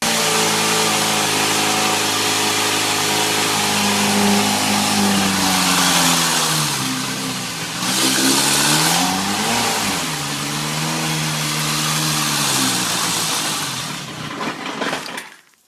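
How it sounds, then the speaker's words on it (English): Kawasaki KZ650 motorcycle engine running after repair with no compression at the tailpipe, idling loudly then revving up and down in several swells before cutting out at the end. "So I got it running"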